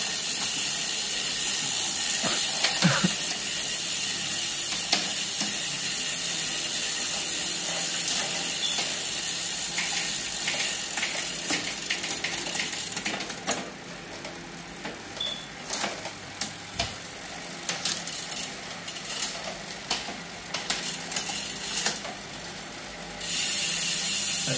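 A Shimano Acera drivetrain with 9-speed cassette and triple chainrings on a Simplon XC100 mountain bike ratchets with a fine, steady freewheel clicking, later breaking into irregular clicks and taps.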